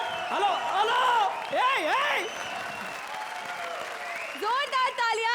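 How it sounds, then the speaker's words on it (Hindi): Studio audience applause at a Hindi television comedy show, a steady wash of clapping running under loud, animated voices that rise and fall throughout. "जोरदार तालियां"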